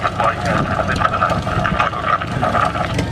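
A propeller-driven tailwheel light aircraft drones at an air show, its steady engine buzz continuous and fairly loud while someone talks over it throughout.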